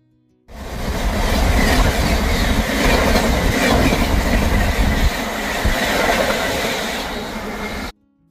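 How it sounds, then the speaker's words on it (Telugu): A Garib Rath express train rushes past on the line near Nellore, a loud, sustained roar of wheels with rhythmic clickety-clack and faint squeal, arriving abruptly and cutting off after about seven seconds. "ఇప్పుడు వెళ్ళిన ట్రైన్ వచ్చేసరికి గరీబ్ రాత్ అండి"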